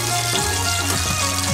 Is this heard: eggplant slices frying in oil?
yes